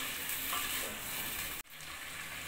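Meat offals and kpomo cut into bite-size pieces sizzle and fry in a pan for Ofada sauce, a steady soft crackle with a brief stir-like dip partway through, no voices.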